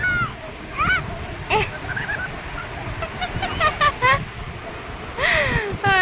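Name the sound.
sea wave splashing on the beach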